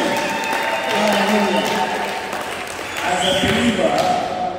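A church congregation applauds for Jesus, a steady wash of many hands clapping that fills the hall at moderate loudness, mixed with crowd voices and a louder swell near the end.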